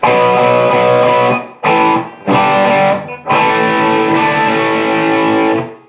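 A heavily distorted electric guitar plays a riff of sustained chords, broken by two brief rhythmic stops before ringing out loudly.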